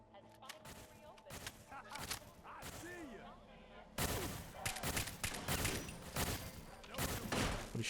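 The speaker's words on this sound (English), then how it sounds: "What is shooting us?" Repeated gunfire in Fallout 4, rapid bursts of shots throughout, growing heavier and louder in the second half, mixed with game sounds and voices.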